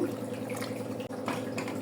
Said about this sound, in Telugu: కొంచెం వాటర్ పోస్తున్నాను